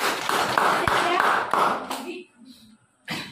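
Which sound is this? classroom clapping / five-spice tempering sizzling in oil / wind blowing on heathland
classroom clapping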